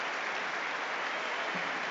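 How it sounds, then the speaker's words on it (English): A stadium crowd at a Hibernian versus Dundee United football match applauds in a 22nd-minute tribute, a steady, distant wash of clapping heard faintly and evenly throughout. "a round of applause here for John McNabb, forever 22 in the 22nd minute"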